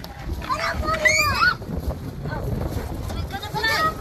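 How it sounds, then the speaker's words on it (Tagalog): Gusty outdoor wind buffets the microphone with a rumbling, uneven roar while people talk and exclaim over it during an Easter egg hunt. "Windy man."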